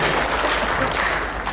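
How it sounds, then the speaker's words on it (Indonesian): An audience at a talk claps in a dense, loud burst, continuous for the brief moment with no gaps. "Saya minta tepuk tangan dulu buat Bu Mei ini yang semangat sekali"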